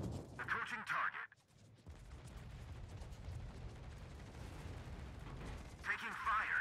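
Anti-aircraft fire in the naval video game World of Warships, during German aircraft carrier gameplay: a steady low rumble of distant gunfire, with bursts of crackling flak near the start and again at the end.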